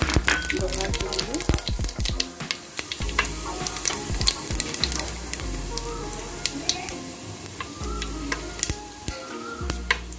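Salted brinjal pieces frying in oil for Hyderabadi bagare baingan, a loud close sizzle dense with sharp crackles and pops that continues throughout without any talk.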